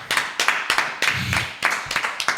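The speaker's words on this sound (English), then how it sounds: "Clap it up." A live audience claps in an irregular burst of sharp, close hand claps that patter on for a couple of seconds.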